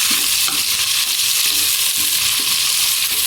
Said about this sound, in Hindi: अच्छी तरह इसको चम्मच से मिक्स कर दें।